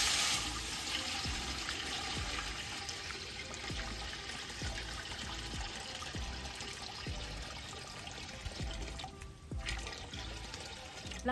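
Water poured from a tap or container steadily fills a cooking pot for making crispy bagnet, a continuous splashing trickle that lasts throughout, close and fairly loud.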